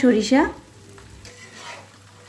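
Raw mango pieces frying in oil with mustard paste, a loud scrape of stirring at first that settles into a softer, steady sizzle, with no talk.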